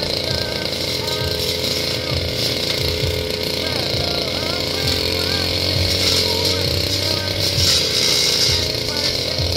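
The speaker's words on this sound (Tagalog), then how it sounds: "Maganda talaga pag may grass cutter kasi ano hanggang puno talaga ng mga damo-damo dala." A brush cutter clears weeds and grass up to the base of trees, its engine droning steadily and loudly throughout while a person talks over it.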